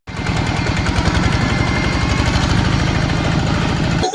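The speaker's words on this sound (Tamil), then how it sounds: "எங்களுக்காண்டி காத்துட்ருக்கிற டிராக்டர்" A loud tractor diesel engine chugs steadily nearby with a rapid, rhythmic knocking, running without pause until it cuts off abruptly at the end.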